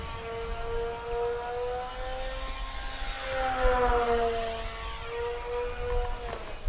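A FlightLine Velocity 950 RC plane flies at an RC field, its electric motor whining steadily at a distance, pitch shifting slightly as it passes and turns.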